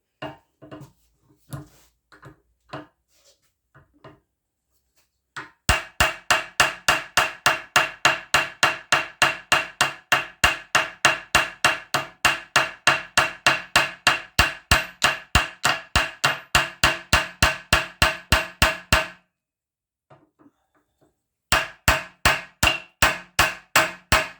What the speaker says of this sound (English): I'm going to take my hammer and I'm going to peen them threads over a little bit